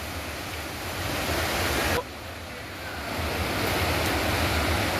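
Loud, steady rushing of a fast-flowing rainwater stream during heavy rain in Ballari, a continuous roar close by with wind buffeting the microphone.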